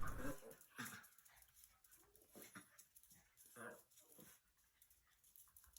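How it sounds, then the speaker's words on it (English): A dog whimpers and whines in short, uneven bursts, faint and close by, with some quiet background noise. "Been throwing a fit all morning. That poor dog needs help."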